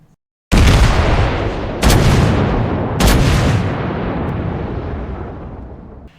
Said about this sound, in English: this is the HMS Incomparable firing